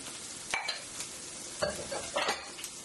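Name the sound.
mushrooms added to a sizzling stir-fry pan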